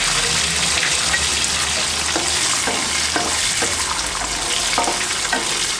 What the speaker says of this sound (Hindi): भुनना शुरू हो गया हमारा